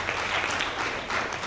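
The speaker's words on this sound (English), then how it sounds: "give him a big round of applause" Short burst of audience applause for a panelist at a media panel, dense even clapping from a room of people, moderately loud and steady for its brief length.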